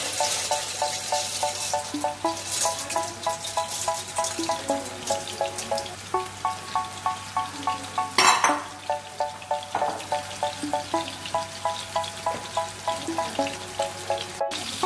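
Water boiling in a pot for cooking macaroni bubbles and pops in a steady rhythmic pattern, with repeated tonal gurgles and a brief louder splash partway through, no talking.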